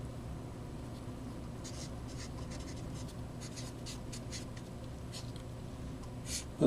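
Chalk or marker scratches on a board during a multivariable calculus lecture, faint scratchy strokes over a steady room hum, with no talk.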